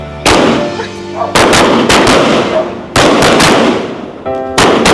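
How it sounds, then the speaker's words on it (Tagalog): Fireworks go off in a rapid run of loud, sharp bangs, about five or six blasts spaced roughly a second apart, each ringing out briefly before the next, close and with almost no talk. "Inilabas na ni Papa Eds yung yung fireworks, no?"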